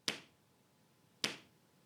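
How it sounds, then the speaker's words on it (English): Two sharp, bright hand claps about a second apart, close and crisp, each with a quick decay into near silence. "And clap your hands together."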